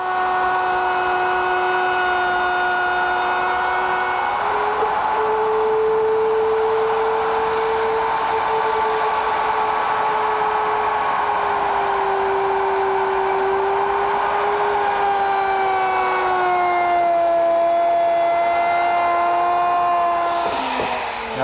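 A router cuts quarter-inch dados in wood with a loud, steady, high motor whine and ringing harmonics that hold for about twenty seconds, dipping slightly in pitch partway through and again near the end.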